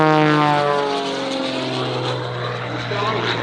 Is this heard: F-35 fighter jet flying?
yes